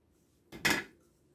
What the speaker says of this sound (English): I'm going to scrape the cookie dough off of my wooden spoon